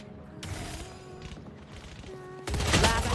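Valorant gunfire rattles in quick bursts, with short volleys early and a louder, denser burst near the end, with no talk over it.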